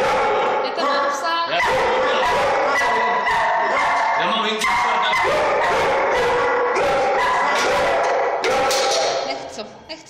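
A dog yips, whimpers and barks excitedly while being let out of its kennel, loud and close with repeated sharp bursts, as people talk over it.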